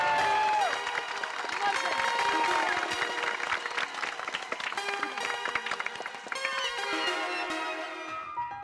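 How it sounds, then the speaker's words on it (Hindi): A neighbourhood crowd gives rousing applause and cheers for the journalist Popatlal in the Taarak Mehta Ka Ooltah Chashmah sitcom, bright continuous clapping with music layered over it and some voices mixed in. "एक बार हमारे माननीय पत्रकार पोपटलाल जी के लिए जोरदार तालियां हो जाए"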